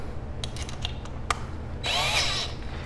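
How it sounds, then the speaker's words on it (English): A power drill running in reverse whirs briefly near the end after a few light clicks and taps, a short high-pitched motor burst up close. "You're going to put this in your drill,"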